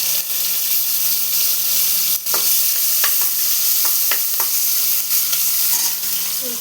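Garlic and three green chilies fry in hot oil, a steady bright sizzle with a few short clinks and scrapes of stirring, close and loud with no one talking.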